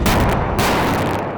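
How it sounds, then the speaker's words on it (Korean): Several tanks of an armored battalion fire their main guns at the same moment during platoon live-fire training, producing one overwhelming, roaring blast that fills the air and slowly rolls off. "여러 전차가 동시에 발사하는 소대 전차포 사격"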